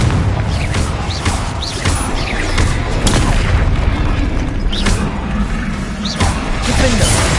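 Repeated Confringo fire-spell explosions from the video game Hogwarts Legacy, deep booms and crashes going off every second or so over a dense, loud game soundscape with a voice shouting in between.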